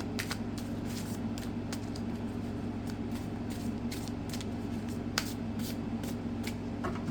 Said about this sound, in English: yes, I'm going to shuffle one more time.